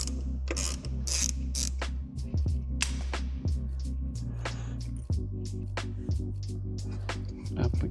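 Ratchet clicking in short bursts as a brake bolt is loosened on a Honda Rebel 1100 during an EBC brake pad install, with a steady low hum underneath and a voice talking throughout.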